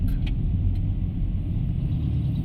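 City road traffic in the Philippines: a constant low rumble of engines from cars and heavier vehicles, with a few faint brief hisses and clicks over the steady drone.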